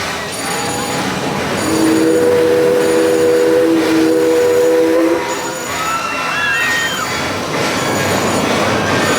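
A roller coaster train runs along its track at Six Flags St. Louis with a loud, steady rumble, and high metallic squeals ring out over the roar.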